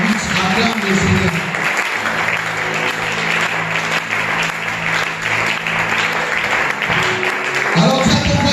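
A church congregation claps loudly and continuously during a worship service, a dense, sustained burst of applause with voices and some tonal sound mixed underneath.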